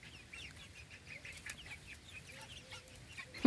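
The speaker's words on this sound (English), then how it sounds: "chicks first time out." Young chicks out for their first time in a backyard, soft repeated peeping and clucking chirps scattered throughout, close and moderately quiet over low ambient rumble.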